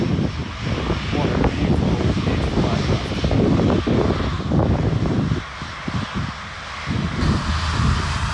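A Ryanair jet airliner roars loudly and steadily as it takes off from Manchester Airport, heard from close by the fence, a broad rumbling engine noise that stays strong throughout, with a voice talking faintly underneath.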